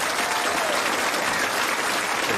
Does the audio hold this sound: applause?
yes